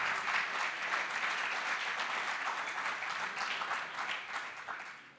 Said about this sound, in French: On peut les applaudir, effectivement.